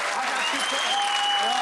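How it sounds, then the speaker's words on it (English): A crowd at a World Poker Tour final table gives a standing ovation, dense loud applause that holds steady throughout, with a voice speaking over it. "And he gets a standing ovation by this crowd."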